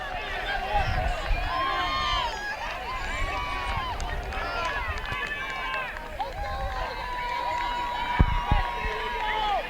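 Fans and parents cheer at the 2021 Coulee Conference women's cross-country meet, with crowd voices and shouts mixing with busy chatter across the whole stretch and occasional thumps nearby.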